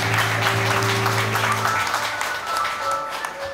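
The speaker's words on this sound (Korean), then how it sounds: "여러분 박수 부탁드립니다" An audience at an indoor meeting applauds for about three seconds. The dense clapping is steady, with a faint hum of voices underneath.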